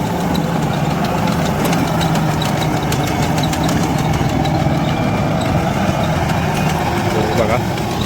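A tractor idles close by with a steady, low, rumbling drone that continues unbroken throughout, while people talk over it in a village yard.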